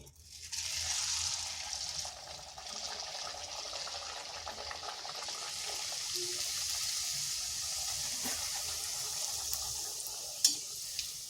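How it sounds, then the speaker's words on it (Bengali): Rolled puris drop into hot oil and fry with a steady, moderate bubbling hiss, with a few small clicks and pops near the end. "তেলটা গরম হয়ে গেছে এরপর দিয়ে দিচ্ছি"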